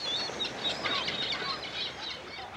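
Seagulls feed on dead crabs at a Valparaiso fish market, their scattered cries and calls rising over a dense, busy outdoor bustle.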